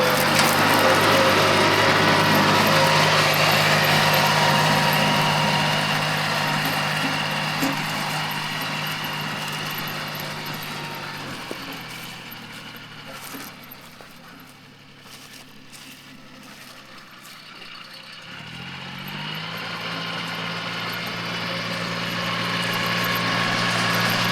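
A Mitsubishi MT200 mini tractor, ploughing after an engine overhaul, runs with a loud, steady engine drone that eases off and dips mid-way, then builds back up.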